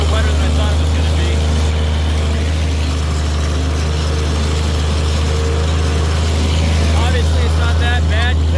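A tractor pulling a disc through a wet field drones with a loud, steady low engine hum as its wheels spin, while someone talks over it.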